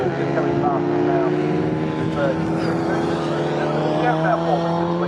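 Midget and Sprite race cars pass at Snetterton circuit, their engines rising and falling in pitch as they go by at close range, with commentary running underneath.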